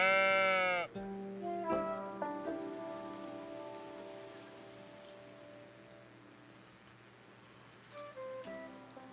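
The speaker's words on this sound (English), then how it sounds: "Pet the sheepy sheep." Sheep bleats in the cozy building game Tiny Glade, a short harmonic bleat at the start followed by softer game sounds and gentle ambient tones, with no talking.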